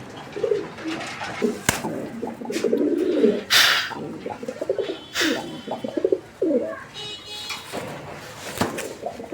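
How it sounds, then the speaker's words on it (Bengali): A powerful male fancy pigeon coos repeatedly up close, in rhythmic bursts of throaty calls with short pauses between them, mixed with a few sharp clicks and knocks. "একদম পাওয়ারফুল একটা নর প্রচুর পরিমাণে ডাকাডাকি করে"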